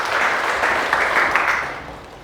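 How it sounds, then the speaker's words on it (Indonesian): A church congregation breaks into a short burst of clapping, a dense mid-level patter that swells briefly and then tapers off within a couple of seconds. "Kasih tepuk tangan itu Tuhan"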